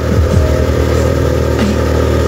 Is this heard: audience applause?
no